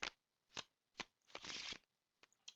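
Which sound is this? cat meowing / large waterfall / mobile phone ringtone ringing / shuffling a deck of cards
shuffling a deck of cards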